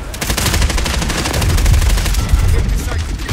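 Rapid automatic machine gun fire from a Call of Duty Modern Warfare match, a loud continuous stream of dense shots rattling steadily for the whole stretch with no pauses.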